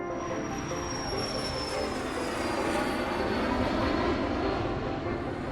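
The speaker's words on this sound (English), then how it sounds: "That's a military jet. And it's flying" A military jet flies past with a continuous broad roar and a rising whine, holding steady and loud throughout with no voices.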